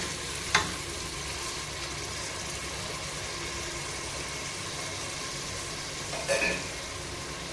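Tomatoes sauté in a hot pan for tomato biryani, giving a steady close sizzle and frying hiss throughout, with a couple of brief clinks or stirring knocks near the start and end.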